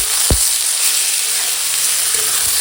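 Onion paste frying in a pan for a cauliflower curry, giving a steady, close sizzle throughout with a brief stirring knock near the start.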